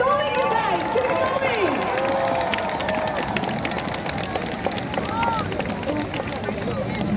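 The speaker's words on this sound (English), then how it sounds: "give them a round of applause. Keep the cheers going" Large crowd cheering and clapping at a National Day Parade rehearsal, a continuous roar with whistles and shouts, under an announcer's amplified voice.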